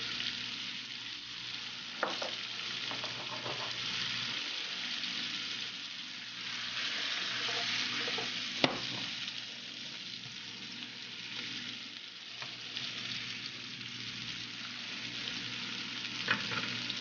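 Zucchini and squash sauté in sesame oil with snow peas, a steady close sizzle with occasional clinks and stirring, no talking.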